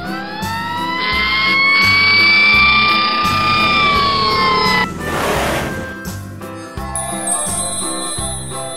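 A toy red fire truck's electronic siren wails loud and near in rising, sustained tones over a repeating synthetic beat, followed by a burst of noise and a brighter electronic jingle.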